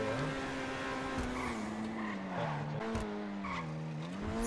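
Car engine roaring steadily with tires skidding and squealing in the video game GTA 5 roleplay, a loud continuous rev rising and falling under the screech, with no voices.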